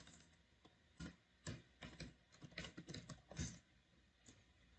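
Quiet, close-up typing on a computer keyboard: a short run of uneven clicks and keystrokes in irregular bursts, with no voice.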